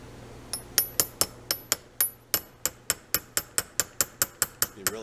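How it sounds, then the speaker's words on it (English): Rapid, steady metallic taps from a small hammer striking a small chisel during a Volvo SX drive shift shaft seal replacement, about seventeen sharp ringing hits in a row, close and clear with no talking. "and a tiny little hammer"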